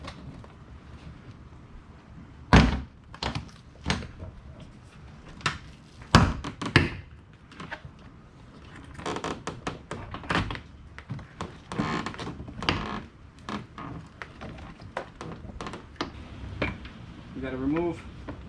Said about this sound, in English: Now we can take the whole door off.